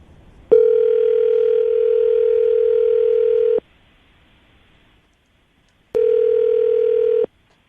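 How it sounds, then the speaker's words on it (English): A steady telephone dial tone sounds alone, cuts off after about three seconds, and returns briefly after a pause of silence, with no voices over it. "I'm going to dial the phone number right now"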